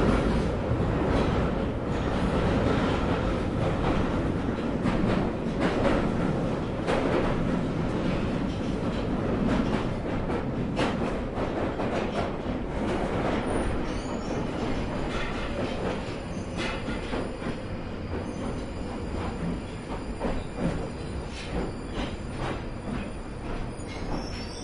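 A London Underground tube train runs toward Mornington Crescent, a loud steady rumble with rattling wheels and squealing metal throughout, close and continuous with no talk.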